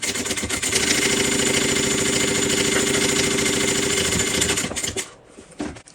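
A sewing machine basting the top of a bag together: a loud, continuous mechanical whir with fast rhythmic needle clatter, close up, running for about five seconds before slowing and stopping, followed by a few faint clicks.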